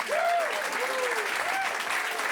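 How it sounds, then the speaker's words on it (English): An audience at a magic show gives a steady round of applause, dense clapping throughout, with a few shouts or whoops rising above it. "Give him a big round of applause."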